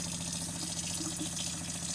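Water runs steadily from a tap inside a van, its tank nearly empty, in a constant, close hiss with a faint low hum beneath it.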